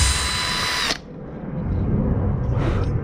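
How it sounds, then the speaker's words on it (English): A loud, high-pitched power drill with an adapted bit whines steadily for about a second while drilling a guitar pedal circuit board, then stops, leaving a low rumble and faint background noise. "drill bit with an adapter on it to do this job"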